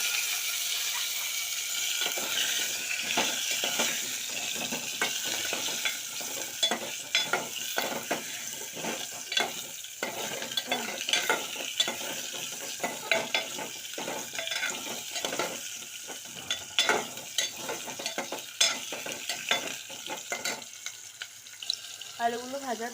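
Potatoes frying in oil with asafoetida, whole garam masala and ginger for Moghlai alur dom, a continuous sizzle under repeated scraping and clattering stirs of a spatula in the pan, with faint talk in places.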